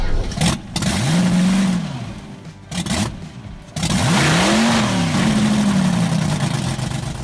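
A Hemi Healey, an Austin Healey 3000 fitted with a supercharged Hemi V8 of over 1,000 horsepower, revs hard in loud, rising and falling bursts, briefly cutting out between throttle blips, close by.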